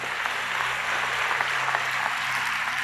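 A church audience claps during a sermon, producing a dense, steady patter of many hands that runs throughout over a low background hum, with no voices.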